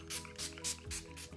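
A quick run of short, hissing bursts from a makeup setting spray bottle, about five puffs in rapid rhythm, close by and fairly soft over a low hum.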